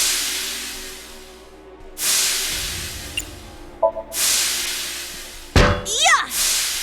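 Steam hisses out of a broken pipe in loud broadband bursts, several separate blasts with short gaps between them, plus a few clanks and a sweeping whistle-like tone near the end.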